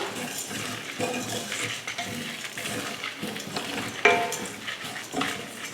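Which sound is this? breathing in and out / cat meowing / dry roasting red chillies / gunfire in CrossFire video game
dry roasting red chillies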